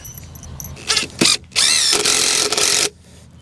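Bursts of a power drill drive a screw into a wooden raised bed frame: a short rev, a brief whir, then a longer sustained spin before stopping, loud and close.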